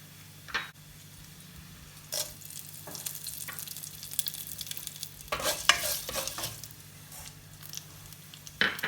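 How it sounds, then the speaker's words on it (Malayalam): Mustard seeds and dried chillies frying in coconut oil for beetroot thoran, quiet background sizzle broken by scattered sharp pops and spatters, several clustered near the middle and one near the end, close and alone. "കടുക് പൊട്ടി വരുന്നുണ്ട്."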